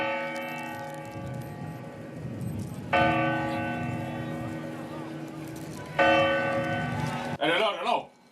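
A clock bell chimes at New Year, ringing out in three long, resonant strokes, each one left to decay before the next. Voices and cheering join in at the end.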